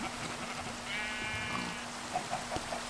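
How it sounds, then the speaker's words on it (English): A sheep in the game Arcane Isles gives one quavering bleat, faint over a soft rain-like background patter, with a few light taps afterward. "now I have a sheep"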